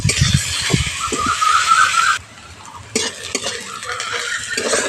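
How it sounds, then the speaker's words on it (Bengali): Two large chopped onions fry in a hot pan for a jackfruit curry, with a loud steady sizzle and scraping stirs and clinks of a utensil against the metal. A short quieter gap falls midway before the frying noise returns. "দেখো পেঁয়াজটা একটু ভালো করে ভেজে নিয়েছি"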